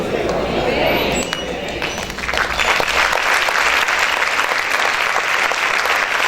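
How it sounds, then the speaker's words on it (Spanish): A church congregation breaks into loud, dense clapping that swells after a brief quieter start, sustained and close, with a voice briefly audible over it. "¿Cuántos pueden aplaudir fuerte al Señor?"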